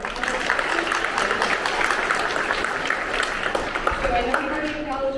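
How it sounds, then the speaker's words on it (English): An audience at a veterans assembly claps together in a steady, dense wash of applause that fills the room. "Clap, clap, clap, right."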